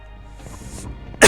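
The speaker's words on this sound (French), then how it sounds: "Un petit peu de toussement." A single sharp cough bursts out near the end during a Skies of Arcadia game session, preceded by quiet low background sound.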